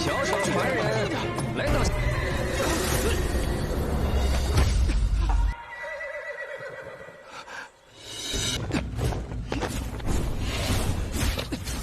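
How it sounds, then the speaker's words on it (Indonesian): Fang Han's horse in an animated fantasy fight rebels and plunges into a ravine, neighing loudly amid crashing and whooshing effects, with a narrator talking over it throughout. "membuat kuda Fang Han memberontak dan jatuh ke dalam jurang"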